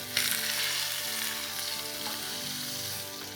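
Pork meat sears loudly in a hot pan with a steady, close sizzle while tongs turn the pieces, a few faint clicks and shifts rising from the hiss; no one speaks.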